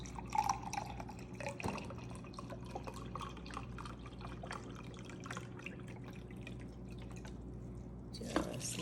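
Chicken broth poured over cooked ground beef in a crockpot, a soft steady trickle and splash lasting several seconds with faint drips, heard close and fairly quiet.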